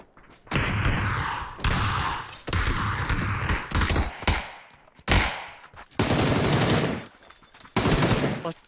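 Loud, booming gunshots from a 98K sniper rifle in a shooter video game ring out in a series of heavy blasts, several separated by brief silences, each leaving a ringing tail.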